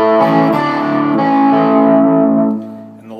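Distorted electric guitar playing a riff, loud sustained notes ringing out together before fading away near the end.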